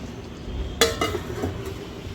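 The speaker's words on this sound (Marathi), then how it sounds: "याच्यामध्ये आपण प्लेट झाकून घ्यायची आहे" A plate set over a pan of capsicum rassa bhaji, giving one sharp close clink followed by two or three softer knocks and scrapes against a low room hush, with no talking.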